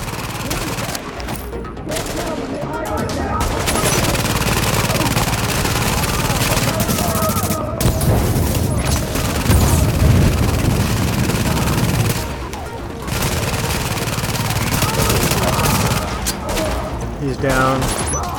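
Turret gunfire in The Division video game, dense sustained automatic bursts and impacts filling the scene loudly, with players talking over the shooting.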